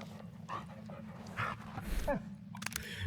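A dog in the Blair Witch video game whimpers and yips in short, soft bursts, mixed with game ambience and a low steady hum, fairly quiet throughout.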